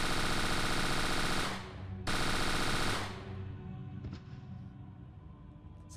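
An M249 SAW machine gun fires in the Resident Evil 1 video game, with dense rapid bursts, a loud sustained stream, a brief pause, another burst, then a fading tail with no voices.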